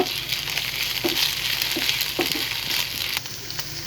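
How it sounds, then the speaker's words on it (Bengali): Ginger garlic paste fries in hot oil with a close, steady sizzle, broken by a few light stirring clicks. "এটা একটু আমি তেলের সঙ্গে সুন্দরভাবে ভেজে নেব।"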